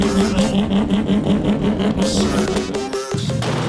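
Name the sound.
Mazda RX-7 six-rotor engine revving with straight pipe exhaust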